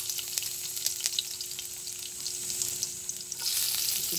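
Garlic fries in a pan with a soft, steady sizzle and scattered small pops and ticks, growing louder and denser near the end.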